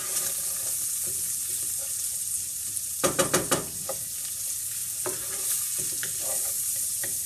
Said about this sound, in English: I'm gonna add my onion and let that cook. I'm gonna let it cook with the same fat that the bacon is releasing